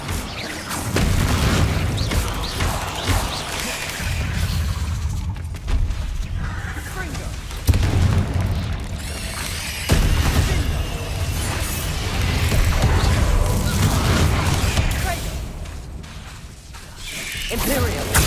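Confringo fire spell blasts in the Hogwarts Legacy video game, loud booming explosions and whooshes repeating through a dense battle mix with music and voice lines.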